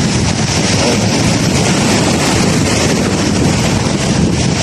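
Large ocean waves churn with strong wind in a continuous, loud, dense roar that buffets the microphone, with no voices.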